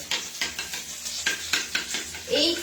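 Spices being stirred and mixed in a bowl for an aloo dum, a series of quick regular scraping strokes close by with faint clinks of the utensil.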